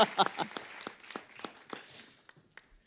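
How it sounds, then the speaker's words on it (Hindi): Audience applause at a comedy talk show taping, a brief burst of claps rising and fading over a few seconds, fairly faint and somewhat sparse with scattered hand claps. "जोरदार तालियां"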